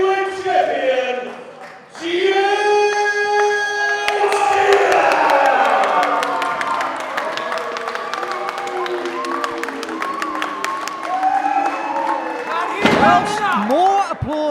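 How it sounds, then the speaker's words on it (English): A crowd at an IPW professional wrestling show applauds and cheers at length during a ring announcement. A loud amplified voice carries over the steady clapping, with a sharp slam or impact near the end. "more applause for Jake Sheehan than I was anticipating"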